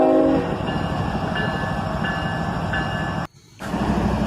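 A CSX freight train rolls slowly to a stop right in front of the listener, a steady rumble of wagons with a brief horn at the start and periodic tones, fading briefly before resuming.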